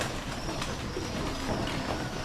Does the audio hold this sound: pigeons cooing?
yes